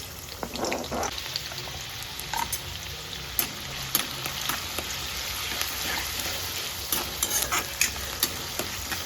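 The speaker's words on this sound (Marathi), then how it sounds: "तेल चांगलं गरम झालेलं आहे मी कांदा घालून" Onion drops into hot oil for a mackerel fish curry, giving a continuous close crackling sizzle broken by repeated stirring scrapes and spatters.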